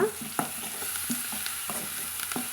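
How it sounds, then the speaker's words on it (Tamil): Ingredients for broad bean aviyal are stirred as they fry in a pan: a steady close sizzle broken by repeated scraping strokes of the spoon, with no voices. "சேர்த்துட்டு கலந்து விட்டுக்கலாங்க"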